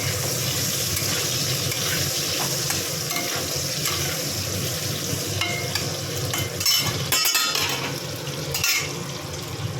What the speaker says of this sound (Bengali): ওই মাছের তেলেই এবার আলু আর ফুলকপি ভেজে নেব